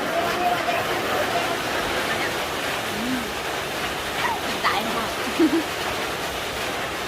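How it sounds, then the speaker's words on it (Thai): Steady, even rain hisses throughout, with faint voices occasionally audible beneath it. "โอ้ฝนตก"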